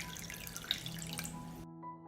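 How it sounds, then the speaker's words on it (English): Quiet trickling and dripping of hot water being poured into a pot up to the lid's height, soft and close, ending abruptly. "I pour hot water into the pot,"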